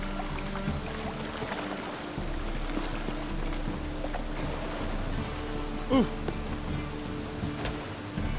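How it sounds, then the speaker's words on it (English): Steady rain falling in the video game The Witcher 3, a dense even patter with a low hum underneath and a brief thud near the end. "It's raining again."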